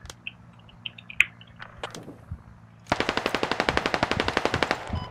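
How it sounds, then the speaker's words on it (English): A few scattered distant shots from the video game Squad come first over faint ambient birdsong, then a loud, rhythmic automatic burst of gunfire follows nearby. "There's a sniper shooting."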